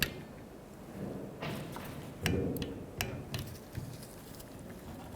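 Metal ratcheting ticks and clicks from a torque wrench tightening intake manifold bolts on a 2011-2015 Chevy Cruze, a few sharp close taps at uneven spacing over a low background hum, with no talking.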